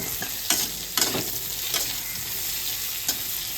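Eggplant fries in a pan while being stirred, a constant sizzle broken by several sharp scraping strokes of the spatula at irregular intervals, close and fairly loud.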